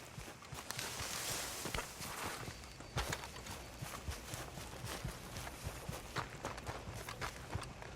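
Horse hooves clip-clopping in the Red Dead Redemption 2 video game, a quick irregular run of close footfalls over a steady outdoor background, moderately loud and with no talking.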